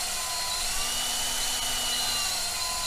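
A drill bores into a car's oil pan during a cheap Miata turbo build, a steady high-pitched whine holding constant throughout, close and continuous with no talking.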